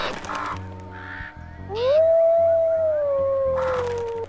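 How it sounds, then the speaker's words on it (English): A wolf howls in the WolfQuest video game: one long, clear, rising then slowly falling tone sounds close and loud over other game sounds and short animal calls. "I'm gonna see if I can howl while it's distracted."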